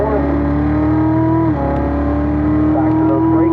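A race car accelerates on a circuit after a turn's apex, its engine a loud, steady drone holding close and continuous, with a brief dip in pitch midway before it climbs again.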